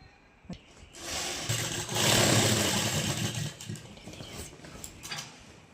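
Sewing machine stitching the waistband of a cancan petticoat, a close mechanical whir that swells in bursts and then runs in shorter stops and starts.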